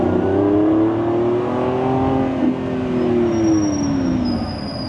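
A 2025 Lamborghini Revuelto in Sport mode holds a steady, loud engine drone, rising and falling slightly in pitch as it revs, with a faint high whine entering near the end and no voices.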